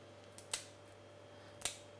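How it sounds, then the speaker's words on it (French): Scissors snipping through a lobster shell while preparing a lobster recipe, two sharp, close cuts about a second apart against a quiet kitchen background. "Après, je prends ma paire de ciseaux."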